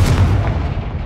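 A Confringo blasting spell explodes in Hogwarts Legacy as one loud, booming low-end burst that decays over about a second, with no talk.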